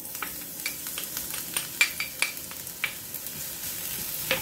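Garlic sizzles in hot cooking oil, a soft steady frying hiss broken by scattered sharp crackles and pops, with a few stirring scrapes, close and fairly quiet.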